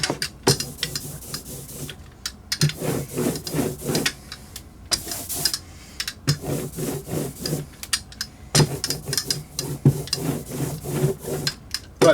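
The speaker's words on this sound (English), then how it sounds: "I'm putting an oil-based etching ink onto the surface to print." Oil-based etching ink being worked onto a hand-carved birch plywood block in repeated close rubbing strokes, coming in rhythmic bursts separated by short pauses.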